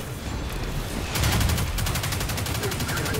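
Rapid bursts of gunfire from the Destiny 2 beta story campaign, a dense rattling volley that swells at around one second and continues as rhythmic, evenly spaced shots.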